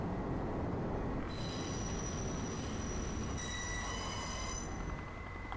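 Steady train wheels squealing on rails in the video game Kane and Lynch 2: Dog Days, high metallic whines shifting in pitch over a constant low rumble, no talking.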